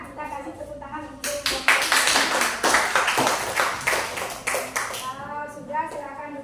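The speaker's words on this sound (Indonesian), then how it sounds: "kita kasih tepuk tangan untuk" Scattered clapping from a small classroom group rises in the middle, with people talking over it near the start and end.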